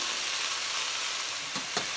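Vegetables with onion and mushrooms sauté in olive oil in a hot pan, giving a steady, close, even sizzle throughout with a couple of brief stir clatters near the end.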